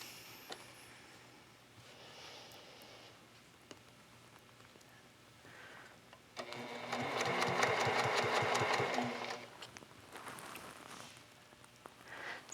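A sewing machine does free-motion quilting along a ruler, running in short bursts of rapid needle stitching that grow louder and steadier in the middle, with quiet gaps and light handling noises between runs.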